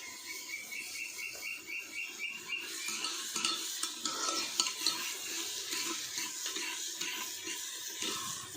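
Onions frying with salt in a pan, a soft steady sizzle under repeated scraping and clinking as a spoon stirs them, fairly quiet and close.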